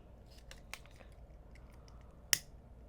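Scissors snip through a necklace cord, a few faint soft clicks followed by one sharp, crisp cut near the end, close up in an otherwise quiet room.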